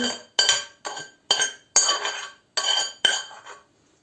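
A spoon stirring grated carrot, onion and frozen parsley in a bowl, seven sharp, evenly spaced scraping clinks with short pauses between them, close and clear with no talking.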